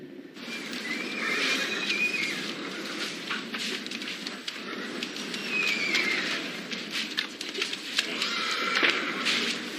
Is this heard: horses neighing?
yes